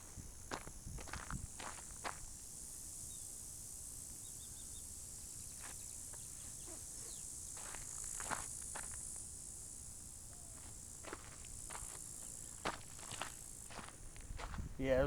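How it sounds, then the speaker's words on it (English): Cicadas buzz and rattle along the Mission Gorge hiking trail in Mission Trails Regional Park, San Diego, a faint, steady high drone under crunching footsteps on the path. "Yeah, those are cicadas."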